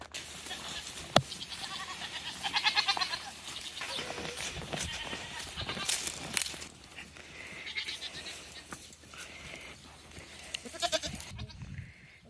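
Nigerian Dwarf milk goats bleat several times at moderate distance over steady outdoor rustling and movement in a pasture, with occasional clatter; no talking.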